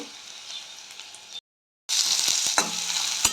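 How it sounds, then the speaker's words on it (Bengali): Sliced onion frying in hot oil in a pan, a steady close sizzle with stirring clatters, briefly cut to silence midway before the crackling frying resumes louder. "এতে তেল গরম হয়ে গেছে, পেঁয়াজটা দিয়ে ভাজা করছি।"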